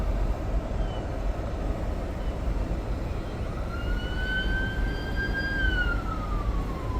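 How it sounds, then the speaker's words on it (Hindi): A distant ambulance siren wails near Bow Valley College, its tone rising and sliding down, over a steady low traffic rumble. "एम्बुलेंसेस की आवाज़ या एम्बुलेंसेस नज़र आएंगी आपको अक्सर"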